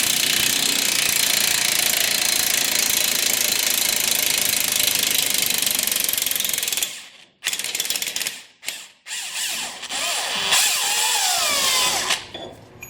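Impact gun loosening the suspension adjuster bolts under a 100 Series Land Cruiser during an AHC delete, a loud continuous rattling hammer for about seven seconds, then choppy bursts that stop and start.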